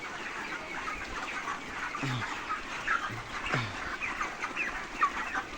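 Broiler chickens about 36 days old cluck and call in a crowded farm shed, forming a steady mid-distance flock chatter with a few louder individual clucks standing out and no talking.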